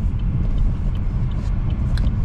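A used car's engine idles with a steady, close, low rumble, unbroken for a couple of seconds.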